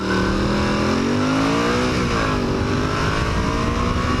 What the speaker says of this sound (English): So here we go off of a stop sign. I got to really rev it up to get it to go.